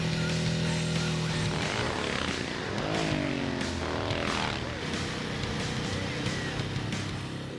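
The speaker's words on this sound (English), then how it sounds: "It has a sort of a racing engine in it compared to our production motorcycles. It has a dual exhaust system." A racing-style motorcycle engine with a dual exhaust system roars continuously and loudly, its pitch rising and falling as it revs through gears, with a faint voice partly buried beneath.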